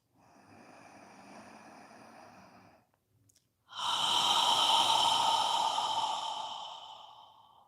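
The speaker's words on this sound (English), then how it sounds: "As you exhale, imagine you're fogging a mirror with your breath." Slow, deep breathing during a guided relaxation session: a softer exhale, a short pause, then a long, loud breath out close to the microphone, with no talk over it.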